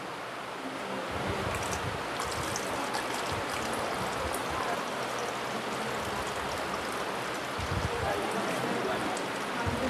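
Water streams out of four holes punched in a filled plastic bottle, making a continuous splashing hiss that stays fairly soft and even throughout.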